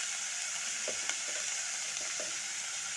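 Onions frying in a pan with salt, a steady hiss of sizzling oil with a few soft stirring scrapes, close and continuous with no voices.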